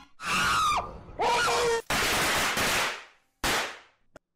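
Gunshots in a YouTube Poop edit arrive as harsh, loud broadband blasts between screaming voices, a few long noisy bursts followed by a brief sharp crack near the end.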